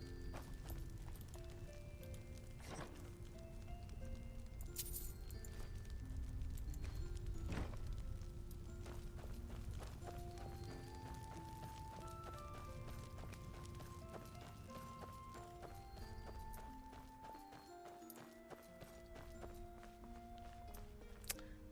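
Horse hooves clip-clop at a steady walking rhythm in the video game Skyrim, fairly close and continuous, layered over a bed of game music and ambient sound.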